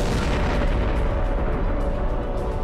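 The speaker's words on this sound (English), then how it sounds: "a mysterious event thrust the universe into motion" A dense, sustained rumbling roar of a Big Bang explosion effect in a universe documentary, loud and continuous with deep low-end booming and no talk.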